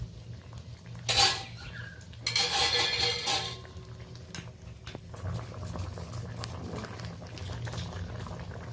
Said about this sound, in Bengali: এখনই তরকারিটা ফুটে গেছে